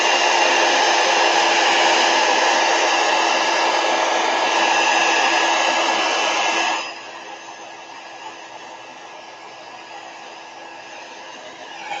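A hair dryer blows steadily over a watercolor painting of calla lilies, a loud even whoosh with a faint whine that suddenly drops to a softer, lower setting partway through and then keeps running.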